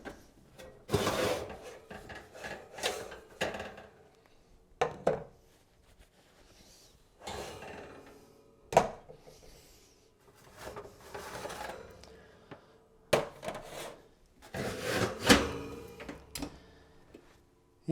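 Clattering knocks and clunks from a kitchen oven as wood samples being kiln-dried are taken out for weighing, several sharp bangs of racks and doors spaced across a quiet room, close and fairly loud.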